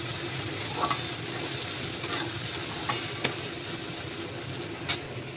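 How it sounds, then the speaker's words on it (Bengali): Saag greens with salt and turmeric stirred in a pan over low heat, a steady soft sizzle broken by repeated scraping spatula strokes and a few sharper knocks, close by, without talking. "এবারে সুন্দর করে নেড়ে নিচ্ছি"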